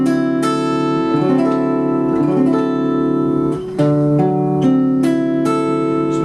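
A guitar plays a jazz blues chord with the root on the fifth string and the sixth string left silent: a series of strummed and plucked chords that ring out clearly, with a brief drop in sound near the middle, and no talking.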